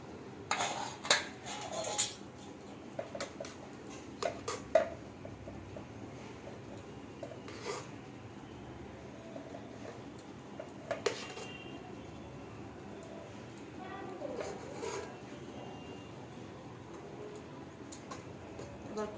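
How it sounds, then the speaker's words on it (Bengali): Hot rice is served onto a plate at home, with scattered light clinks and taps of a spoon and dishes, separated by quiet pauses, close and fairly soft. "গরম গরম ভাত আমি বেড়ে নিচ্ছি"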